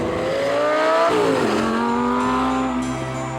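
Lamborghini supercar driving the Alpine Stelvio Pass, engine loud and close, its note sweeping down and back up through a gear change and then holding a steady high drone.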